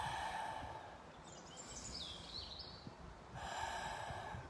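A Pilates instructor takes a long, deep inhale, heard as a soft, steady airy breath under faint room noise, fading slightly in the middle before the breath sound swells again.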